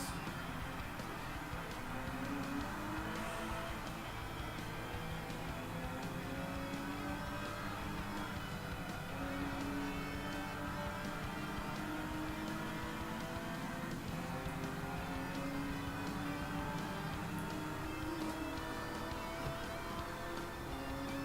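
A V8 race car engine in the video game Gran Turismo 3 roars continuously, revving and shifting pitch through gear changes, steady and fairly loud throughout with no talking.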